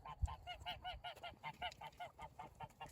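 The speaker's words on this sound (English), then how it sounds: "They're all cackling and making a lot of noise." Poultry in a coop keep up a fast run of loud, repeated honking cackles, close and overlapping in an uneven rhythm with no pauses, and no voices.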